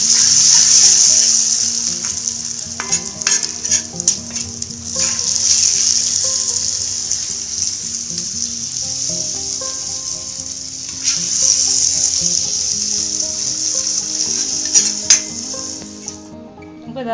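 A chilli-powder tempering sizzling hard as it is stirred and poured into a dried prawn, drumstick and mango curry; a continuous loud hissing fizz, close by, with faint clinks of a utensil underneath.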